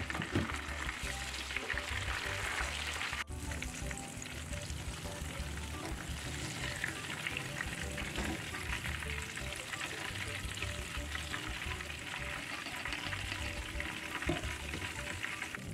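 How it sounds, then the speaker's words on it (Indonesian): Sambal of chili, tomato and shrimp paste frying in a pan, a loud continuous sizzle lasting throughout with occasional stirring, close and steady, with no talk. "Setelah semua bumbu sambalnya digoreng"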